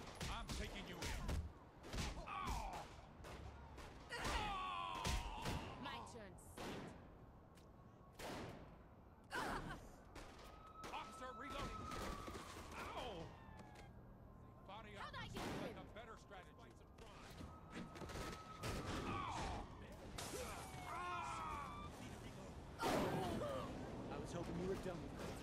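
Gunfire from a police shootout in the video game Saints Row the Third, repeated sharp shots in irregular bursts spread through the scene, with people talking and reacting in between.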